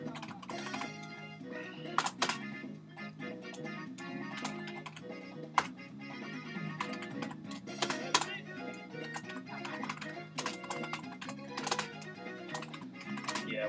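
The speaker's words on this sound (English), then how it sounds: "typing the fan notes and stuff" Someone types on a wired computer keyboard, producing rapid, irregular clicks and sharper key strikes in a steady stream close to the microphone, with faint background sound underneath.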